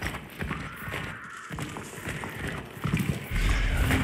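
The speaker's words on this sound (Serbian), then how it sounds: "Čuo se negde konj." Horse hooves clop in a video game, a hurried run of muffled hoofbeats somewhere nearby, mixed with game ambience and growing louder toward the end.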